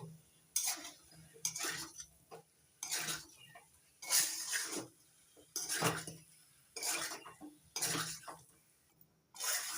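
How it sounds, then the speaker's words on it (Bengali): Salt being stirred into jackfruit chicken curry in a metal pot. A spoon scrapes and clanks against the pot in regular bursts about every second, close and moderately loud, with brief quiet gaps between strokes. "এবার লবণ ভালো করে মিশিয়ে নিচ্ছি সব কিছুর সঙ্গে।"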